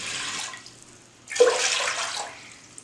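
Water pours into a pressure cooker, about a litre, as a steady splashing rush that starts suddenly after a quieter stretch of running water and continues close and fairly loud.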